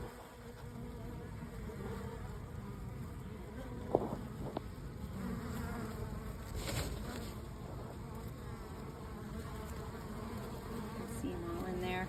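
A package of honeybees gives off a steady, dense buzzing recorded up close, a continuous quiet hum with a few faint knocks and no talking.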